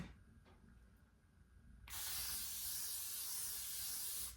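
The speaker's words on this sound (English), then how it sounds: "Or maybe I just need to spray it moderately." A facial cryo ice spray can releases one steady, close hiss lasting a couple of seconds after a quiet start, then cuts off.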